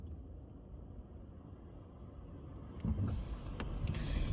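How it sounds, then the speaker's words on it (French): A car passes by outside, a faint low rumble that swells louder in the last second and a half with a brief hiss and rattle. "Il y a une voiture qui passe."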